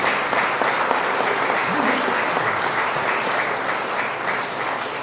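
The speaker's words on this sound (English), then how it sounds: "One more round of applause for all of our past honorees." Sustained applause from an audience at an award ceremony honoring past recipients, steady and full throughout, with faint voices mixed in.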